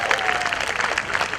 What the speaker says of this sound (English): Yeah, applaud for that.